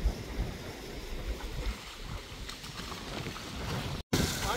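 A small boat moving across open water near Sigiriya and Pidurangala in Sri Lanka, with a steady wash of water and wind noise that holds throughout, broken by a brief dropout near the end.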